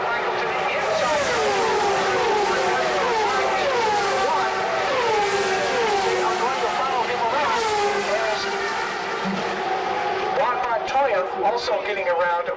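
IndyCar race cars screaming around the Michigan 500 oval at the 2000 race, multiple high-revving engines sweeping past in rising and falling pitch, loud and continuous, with a commentator talking over them throughout.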